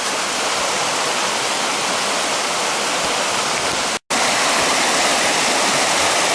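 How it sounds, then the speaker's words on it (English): Loud, steady rush of a swollen stream in a redwood forest after heavy rain, a constant broadband roar close by with one brief dropout near the middle. "Well, water's really coming down."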